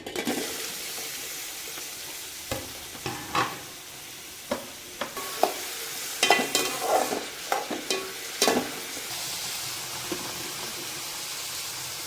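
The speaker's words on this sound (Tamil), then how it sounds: "தக்காளி தொக்குக்கு நான் எண்ணெய் போட்டு ஹீட் பண்ணிட்டேன் இப்போ வந்து நம்ம வெங்காயத்தை போட்டுடலாம்" Onions hitting hot oil in a pan for tomato thokku, a steady sizzle with scattered stirring clacks and scrapes of a utensil against the pan, close and unaccompanied by talk.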